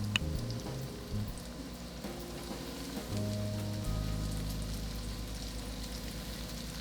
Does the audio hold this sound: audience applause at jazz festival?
no